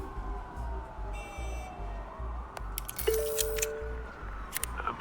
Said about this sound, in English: There are quite a few police cars convening on your location.